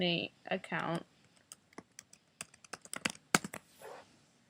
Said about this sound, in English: So I'm just typing in my account.